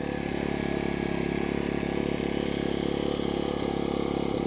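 A small Erayak portable generator engine runs steadily at a constant idle, a close, continuous droning hum with a faint mechanical rattle and no pauses.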